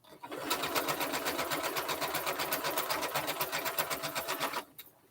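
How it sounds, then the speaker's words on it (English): A sewing machine runs steadily for several seconds, assembly-line stitching pieces of a Double Wedding Ring quilt, its rapid regular needle rhythm loud and close before stopping abruptly near the end. "I'm going to assembly line sew."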